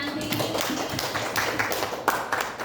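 Claps from a group of teachers and students at an Indonesian school session, a steady patter of moderate, close-sounding hand taps lasting a few seconds, uneven and loose rather than a full ovation.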